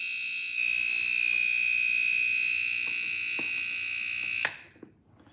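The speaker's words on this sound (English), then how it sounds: "that is the buzzer for our eggs" A kitchen timer for boiling eggs gives a loud, steady electronic buzz that drones continuously for several seconds, then cuts off abruptly, leaving a few faint clicks in a quiet room.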